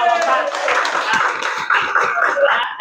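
A group of people clapping their hands in a school setting, a loud, fairly steady patter of claps with a voice or cheering blended into the sound throughout.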